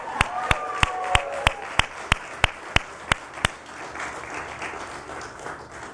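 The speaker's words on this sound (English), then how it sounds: "I think that's worth another round of applause." Audience applause at a Nasdaq closing bell ceremony comes through as a series of about eleven sharp, evenly spaced claps, loud and near, then fades into a low room murmur for the final seconds.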